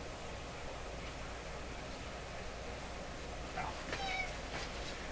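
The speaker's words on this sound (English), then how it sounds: "oh, I hear my kitty" A pet cat named Peanut meows faintly a couple of times near the end, small rising cries over a steady background hiss.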